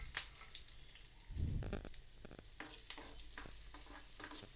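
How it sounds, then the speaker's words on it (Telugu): Chopped onions dropped into heated oil in a pan, bursting into a loud close sizzle with stirring and scraping that settles into steady crackling frying. "ఆయిల్ కొద్దిగా హీట్ అయ్యాక ఇందులోకి కట్ చేసి పెట్టుకున్న ఆనియన్స్ని వేపుకుందాం"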